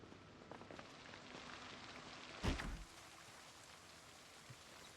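Steady rain falls on a surface on a cozy rainy day, a soft constant patter with one brief louder burst midway.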